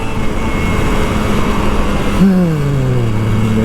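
A Kawasaki Ninja RR motorcycle engine runs loud and close at a steady throttle, then its pitch jumps briefly and slides downward as the rider eases off, settling into a lower hum.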